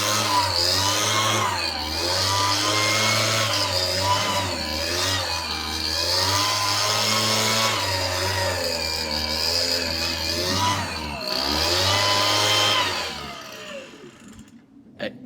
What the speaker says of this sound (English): You could use a leaf blower to actually blow all the thatch into one place to bag it up.